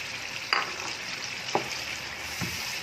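Chicken and gwar phali curry with yogurt is stirred in a pan, with a steady close sizzle and three distinct scraping spoon strokes, and no one speaks.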